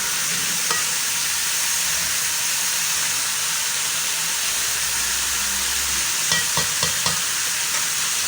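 Potato and cauliflower for aloo gobi fry in a pan over medium heat with a steady, loud, even hiss, and a few sharp scraping clicks from stirring near the end.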